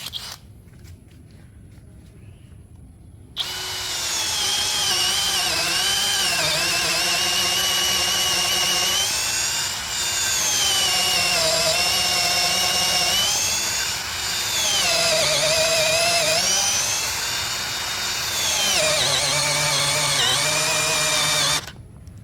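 A DCK KDJZ23-10i 12V brushless drill at speed setting 1 drives a 12 mm wood bit into wood, a loud steady whine that starts abruptly and runs continuously with slight pitch dips under load, no talk.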